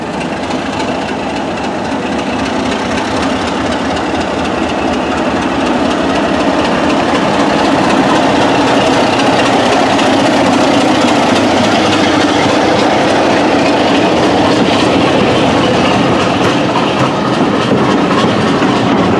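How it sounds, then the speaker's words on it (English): A heritage train pulls out of Tenterden Town station, its engine rumbling heavily and wheels clattering loudly and continuously at close range as it gathers pace. "And here we go, the first train of the day."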